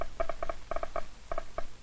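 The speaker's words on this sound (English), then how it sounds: "hear a snap from the loudspeaker for each alpha particle." A loudspeaker on an alpha particle detector's amplifier gives about a dozen sharp, tonal snaps at irregular intervals over a low steady hiss, each a separate click.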